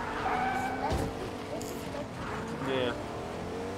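A truck drives in the Fortnite video game with a steady engine drone that rises and falls in pitch as it revs, with a voice talking over it.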